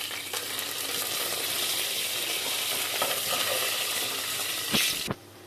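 Fennel, mustard seeds, curry leaves, pepper and cumin sizzle steadily in hot oil, a loud, dense frying hiss with a few small pops, then a sharp knock before it quiets.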